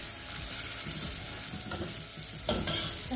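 Curry leaves and dried red chillies sizzling in hot oil for South Indian sambar, a dense steady crackle and hiss with a sharper burst of spattering near the end, close and loud with no talking.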